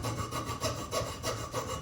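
A hand saw cuts through wood while a carver roughs out a King Eider drake head, steady back-and-forth strokes in an even rhythm, close and moderately loud, with no talking.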